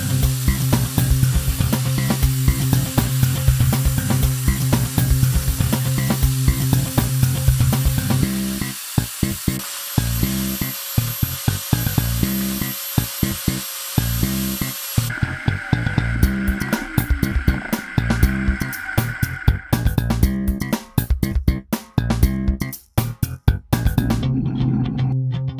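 An electric tube weasel tool bevels, bores and faces a 2.5 inch Schedule 160 pipe, a steady loud grinding whir of cutting metal with a motor hum that shifts pitch and texture partway through, then rapid scraping pulses.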